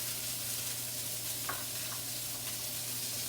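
Carrots and garlic sizzle in a pan beside a browned pork tenderloin, a steady close hiss of frying with a couple of faint clinks and stirring sounds.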